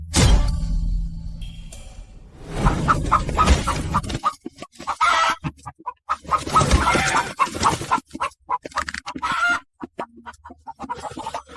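Chickens cluck loudly in irregular bursts, close and busy, with a hint of a rooster crow among them after a sharp opening sound.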